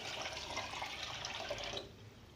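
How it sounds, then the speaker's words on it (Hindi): Water is poured steadily from a bowl into a cooking pot of bone curry, a continuous splashing rush that stops abruptly near the end, leaving quiet room tone. "तो 2 बाउल पानी की मैं इसमें भर के डाल रही हूँ"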